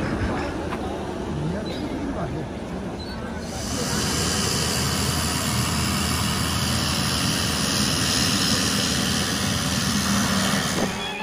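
An airplane engine drones loudly and steadily in flight to Lukla, a dense hissing roar heard from inside the cabin that grows stronger after a few seconds and holds.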